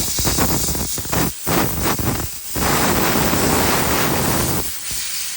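A steam blower blasts steam while cleaning, a loud close rushing hiss in long bursts broken by brief pauses.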